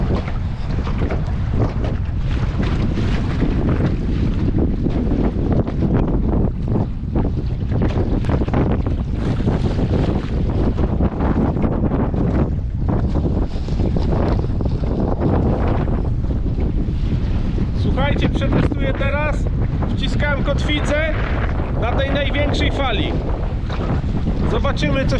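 Strong wind gusts buffet the microphone on a small boat fitted with a MotorGuide Xi3 trolling motor in big waves, a loud roaring rush of wind and water slapping the hull throughout, with someone speaking intermittently and a whining electric motor adjusting near the end.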